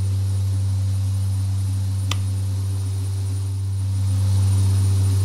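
Steady drone of a Carenado King Air B200 turboprop in X-Plane 11 during taxi and takeoff, a constant engine hum with strong low tones and a faint click partway through, no voices.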